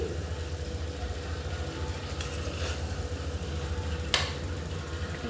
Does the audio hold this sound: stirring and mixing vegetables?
yes